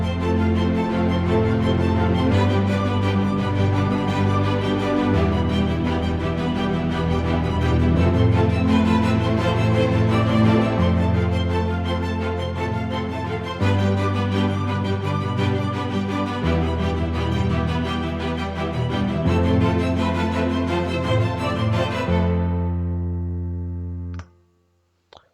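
Orchestral arpeggiator built in FL Studio with violas, cellos and a full ensemble, playing a dense, continuous layered arpeggiated pattern with sustained low harmony, loud throughout before cutting off abruptly near the end.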